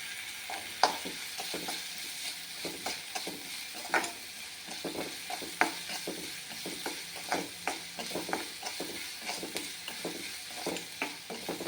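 Ginger garlic paste frying in a pan, a soft steady sizzle broken by regular scraping strokes of a spatula against the pan, fairly quiet and close, no talking.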